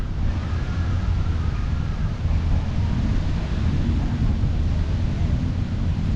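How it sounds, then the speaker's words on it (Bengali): Wind blows steadily by a river in Bangkok, a constant broadband rush buffeting the microphone with no other clear sounds. "নদীর পাশে বাতাসটা ঠান্ডা এবং খুব ভালো বাতাস বইছে"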